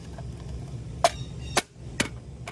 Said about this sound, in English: Cover just gets tapped into place.